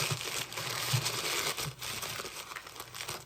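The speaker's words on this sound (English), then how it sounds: "I have 3 more bundles after this one that I'm unwrapping right now." Plastic packaging crinkling and rustling as bead bundles are unwrapped, a steady close crackle with small soft thumps, quiet and without talk.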